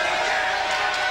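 Wrestling arena crowd at a women's tag-team match, a dense, continuous roar of booing and jeering that fills the whole moment, loud and steady with no single voice standing out.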